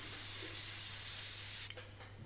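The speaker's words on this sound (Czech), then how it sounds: "radši prostě stříkám tenulinký vrstvičky" An airbrush sprays thin layers of paint onto a scale model through masks, a steady close hiss that holds for under two seconds and then stops abruptly, leaving faint handling clicks.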